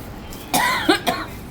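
Three quick coughs in a row, the first a longer rasping burst followed by two shorter ones, close and fairly clear.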